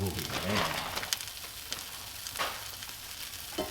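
Leftover pizza topped with bagged pizza cheese sizzles quietly in a frying pan, a soft steady crackle with a few faint clinks, low and close with no talking.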